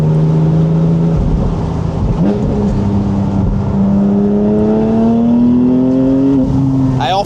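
The hybrid engine of a Porsche Boxster revs up, its tone climbing steadily through the rev range. The sound is loud and close, and a brief dip and rise come near the end.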